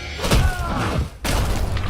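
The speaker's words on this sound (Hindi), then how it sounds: "तभी एक विस्फोटक आवाज गूंज उठी।" A heavy explosive boom effect sounds in a narrated story, a loud thudding impact followed by a second crash after a short dip.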